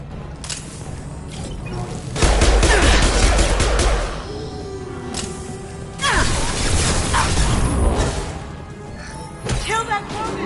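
Mass Effect 2 combat brings bursts of gunfire and impact crashes that come in loud clustered volleys with brief lulls between them, along with metallic mechanical clatter and voices speaking amid the fighting.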